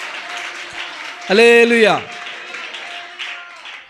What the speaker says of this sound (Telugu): హల్లెలూయా, హల్లెలూయా అంటే చప్పట్లు కొట్టండి.